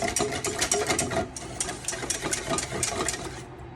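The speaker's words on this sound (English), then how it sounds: "break apart the eggs, mix it with a whisk" Eggs whisked in a bowl for butterscotch pudding, a quick, rapid rattling clatter of the whisk against the bowl, close and continuous, fading out at the end.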